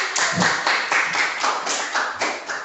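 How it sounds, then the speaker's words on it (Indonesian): Students in a junior high school classroom in Gunungsitoli give a short round of applause, with brisk, fairly even handclaps close by and no talking. "Tepuk tangan dulu."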